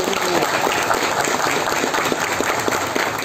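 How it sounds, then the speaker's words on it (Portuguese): Steady, dense applause fills a hall at an inauguration of a social security office in Barreirinha, a continuous wash of many hands clapping at an even level. "E uma salva de palmas para o nosso..."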